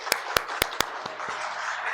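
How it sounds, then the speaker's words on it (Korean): A church congregation claps in thanks at a New Year's Eve service. The clapping is a handful of sharp, separate claps that thin out and fade quickly, rather than a full wash of applause. "한번 감사의 박수 하겠습니다"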